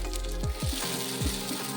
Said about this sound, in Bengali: ভেজানো ছোলা কলাই দিয়ে ভালো করে ভেজে নিচ্ছি